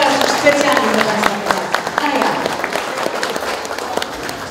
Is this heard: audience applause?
yes